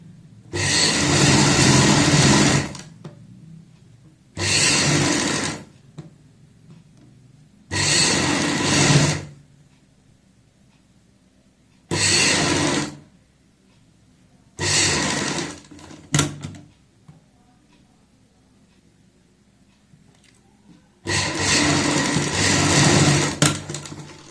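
A domestic sewing machine runs stitch by stitch along the folded neck edge of a kurti, in six separate loud bursts of a few seconds each, the last one longer, with quiet pauses between them and no talking.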